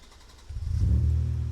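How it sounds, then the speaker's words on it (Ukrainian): A car engine turns over and catches, then rises into a low, rumbling rev that holds steady for a moment. "Можемо зробити маленьку е, анонс, просто звук автомобіля. Ну давай, запусти"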